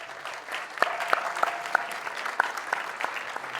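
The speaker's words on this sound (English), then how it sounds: "John certainly should get applause" Room audience at a sports-and-media ethics talk gives light, scattered applause, with a few distinct sharp claps standing out over a soft background patter.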